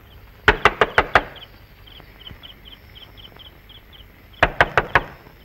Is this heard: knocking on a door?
yes